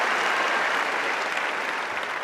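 A crowd on Wimbledon's centre court claps steadily, a dense, sustained wash of applause that fades slightly toward the end.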